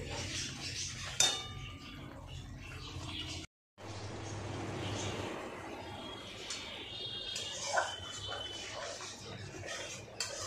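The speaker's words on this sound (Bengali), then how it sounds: "এবার এটাকে খুব ভালো করে কষিয়ে নেব" Spices and salt being stir-fried in a pan for a pointed gourd kofta curry. Soft, continuous clinks and scrapes of a utensil against the pan sit at low volume over a faint background hiss, with a brief gap partway through.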